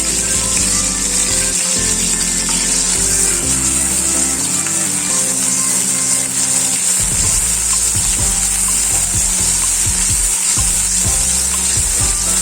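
Chopped onions frying in hot oil in a pan, a loud, steady sizzle throughout with repeated scraping and knocking as they are stirred.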